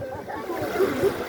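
Sea waves washing onto a sandy beach, a continuous wet splashing and sloshing wash that swells and recedes close by, with children's voices faintly mixed in.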